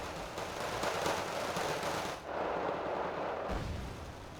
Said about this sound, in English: A little bit of aggression up top with some mortars hitting the Panzer. Well, not mortars, they're proper artillery. M109s